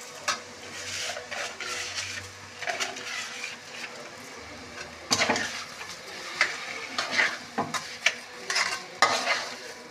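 Sugar being poured into a pan of pineapple chutney as it cooks and is stirred, with scraping and clinking of a spoon against the pan over a faint sizzle, moderately quiet and close.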